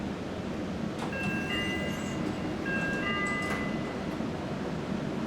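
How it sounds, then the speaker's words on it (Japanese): A Meitetsu Hiromi Line train pulls out of Inuyama Station with a faint, steady rail rumble and brief high wheel squeals as it gets under way. "犬山駅を発車です。"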